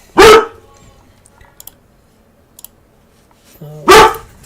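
A dog gives two loud, sharp barks, one at the start and one near the end, with faint clicking and quiet room noise between them.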